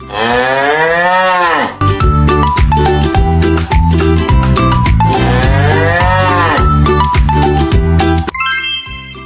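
A cow moos loudly in long drawn-out calls, with a jingling melodic tone running underneath and a brief chime at the end.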